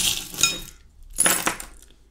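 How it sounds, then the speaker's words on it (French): Small divination charms cast together in two brief bursts of clinking, like tiny metal trinkets and glass beads tumbling onto a surface, close and crisp with quiet between. "on va prendre les breloques pour voir ce qui ressort pour tout le monde"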